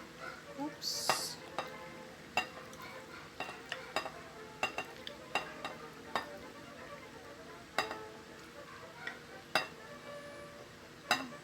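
A ladle stirs chicken macaroni salad in a bowl, giving repeated sharp clinks and scrapes against the sides in an uneven rhythm, close and fairly quiet, with faint background speech.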